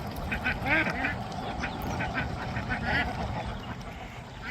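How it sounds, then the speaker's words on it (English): Ducks quacking near a mini chicken coop, several raspy calls repeating at moderate distance over steady background noise. "Keep it tight, mama ducks."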